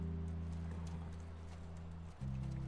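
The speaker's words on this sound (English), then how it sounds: "the idea is just this little horse riding montages" Horse hooves clip-clop steadily during a riding sequence in The Last of Us, a third-person action game, set over a continuous low drone of music with a brief dip near the end.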